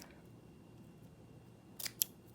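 Scissors snipping through paper while decorating a notebook cover with washi tape, a couple of quick sharp cuts near the end after faint room hiss, close and quiet.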